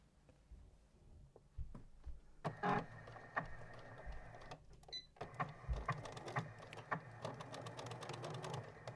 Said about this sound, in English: I'm going to sew down to the bottom, pivot and sew up the left hand side